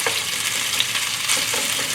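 Steady, bright sizzling of chicken frying in a hot pan, a continuous crackle with small pops and no voices.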